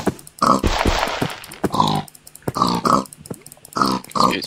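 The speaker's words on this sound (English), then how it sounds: "There's a pig here," A pig in the Minecraft video game grunts several times in quick succession, short close clear grunts with brief gaps between them and no talking.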